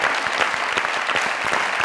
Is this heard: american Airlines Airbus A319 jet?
no